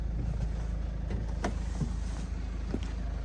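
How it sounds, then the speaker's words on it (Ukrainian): A 2011 Citroen Berlingo with a 1.6 diesel engine idles after starting, a steady low rumble with faint ticking and clatter holding constant throughout, with no talk over it. "заведемо, слухайте роботу двигуна."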